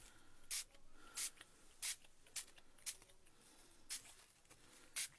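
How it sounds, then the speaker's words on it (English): Ranger Dylusions spray ink is misted in short, hissing bursts over a craft surface already dampened with water, about eight quick sprays in an irregular rhythm, close and fairly quiet, with soft handling noises between them. "we're going to go in with our Delusions sprays"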